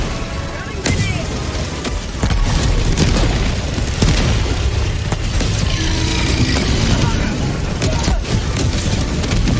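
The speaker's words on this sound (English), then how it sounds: "Running grenade!" Grenade blasts and heavy booms in the Helldivers 2 video game, set in a dense, continuous din of gunfire, mechanical clatter and repeated explosive hits, with a player's voice shouting over the chaos.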